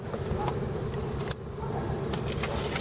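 A car with a misfiring second cylinder idles steadily at close range, a low continuous engine rumble with a brief dip partway through and faint clinks on top.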